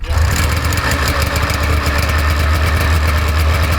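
A 440cc two-stroke go-kart engine runs loud and close with a steady, buzzing drone and deep low rumble, holding nearly constant throughout with no talking.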